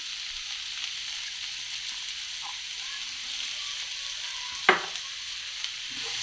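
Chopped onion frying in masala for an egg curry sizzles quietly and steadily, with one sharp clack of a utensil partway through.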